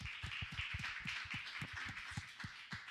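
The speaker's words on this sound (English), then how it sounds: "let's get one more round of applause." A seated audience applauds panel speakers at a live talk event, steady dense clapping with sharp individual hand strikes spread across the room, continuous and moderately loud without any voices.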